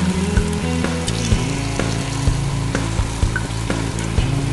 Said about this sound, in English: I'm going to add a half a bottle of red wine